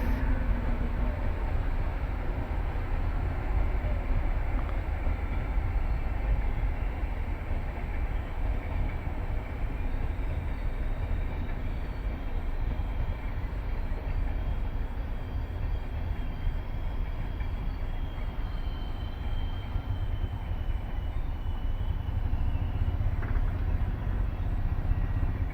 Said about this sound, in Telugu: రైలు అయితే పోతుంది గాయస్.